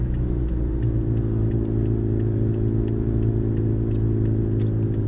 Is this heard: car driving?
yes